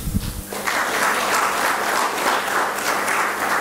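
An audience at a talk bursts into sustained applause that starts after a brief low thump, dense steady clapping filling the room for several seconds at a fairly loud level.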